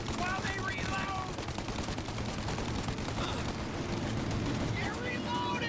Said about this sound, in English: Shoot up their gun when there's a break in the fire!